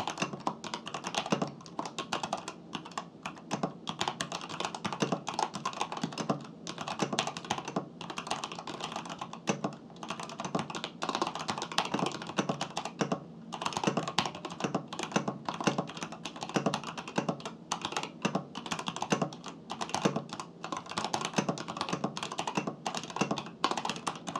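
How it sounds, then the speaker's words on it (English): Steady, fast typing on a Varmilo MA87 mechanical keyboard with EC switches, close up and crisp, keys clacking continuously for the whole stretch with no voices. "Here is the sound test for this keyboard."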